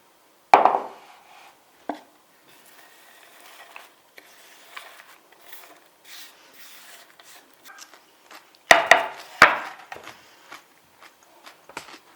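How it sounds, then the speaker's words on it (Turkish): A knife chops cabbage on a cutting board in a few sharp thuds, scattered with quieter taps and rustling in between, close and without talking. "Lahanaları doğradım. Şöyle ortadan kesiyorum."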